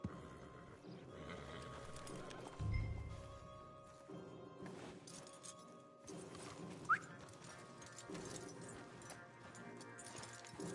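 Horses' hooves clip-clop at an easy walking pace in the video game Red Dead Redemption 2, quiet and steady under ambient game sound, with a brief snort partway through.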